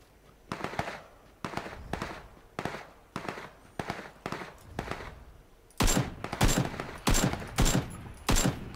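Rapid bursts of video-game gunfire in PUBG during a night match, a steady run of sharp evenly spaced shots that grows louder and denser in the final seconds, heard alone without talk.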